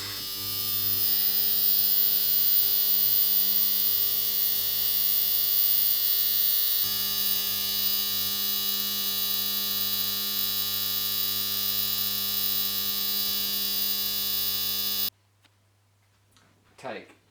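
A cheap eBay ultrasonic cleaner runs with a loud, steady electric buzzing hum and a high whine for about fifteen seconds, then cuts off abruptly, leaving near silence and a brief faint knock.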